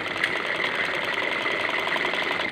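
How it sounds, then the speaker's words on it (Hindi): A sewing machine stitching a homemade foam cover, running as a steady, continuous mechanical whir with a fast rhythmic knock, close and moderately loud throughout. "और ये भी उसी तरीके वाला सिलाई करेंगे।"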